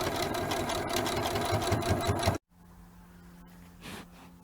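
A sewing machine stitching appliqué fabric bunting flags, running steadily and fairly loud, then cutting off abruptly about halfway through, leaving a quiet room with faint hum.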